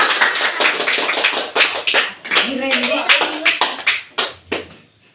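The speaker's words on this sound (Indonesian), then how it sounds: "Tepuk tangan dulu." A classroom group claps hands at the close of a math exercise on determinants, a burst of sharp, uneven claps from several people nearby, thinning out toward the end, with voices heard among them.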